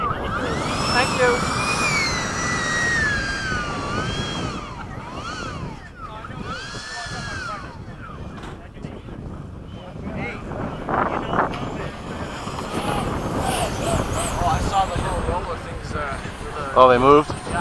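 A radio-controlled model jet comes in to land at a flying field. Its turbine-like whine rises and falls in pitch as it passes, then fades into wind noise, with people talking nearby throughout.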